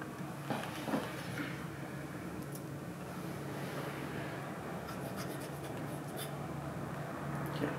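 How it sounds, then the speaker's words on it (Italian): Pen scratching a signature onto a copy of Paganini's Cannone violin, soft irregular strokes at close range over a quiet room hum. "possiamo iniziare con una piccola prova per provare la penna"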